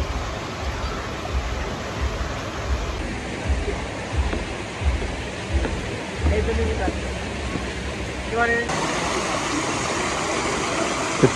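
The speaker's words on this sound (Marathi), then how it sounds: "हे पाणी आय डोंट नो की कुठनं येतंय, वरती वॉटरफॉल मधनं येतंय" Water from a mountain waterfall near Dharamshala rushes steadily into a pool below, a constant broad roar that runs the whole time while people talk close by over it.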